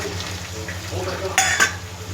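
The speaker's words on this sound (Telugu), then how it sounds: "పల్లీలు వేసి కొంచెం రోస్ట్ చేద్దాం" Peanuts roasting with softened tomatoes in a pan, stirred with a soft sizzle and scraping, with two brief louder clinks of the utensil against the pan near the end.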